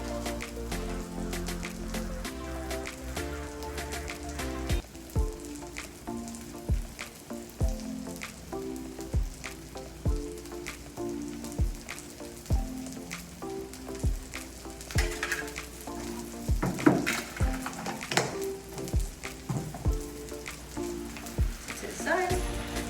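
Butter and sliced apples sizzle steadily on a hot grill, a dense close frying hiss with repeated sharp crackles and pops throughout.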